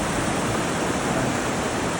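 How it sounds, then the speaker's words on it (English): Water of the Kern River rushes steadily near a hiking trail at Kennedy Meadows, a constant loud broadband roar with no breaks and no voices. "I like the sound of water while I'm walking."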